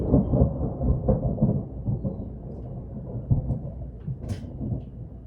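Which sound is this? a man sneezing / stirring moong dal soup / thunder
thunder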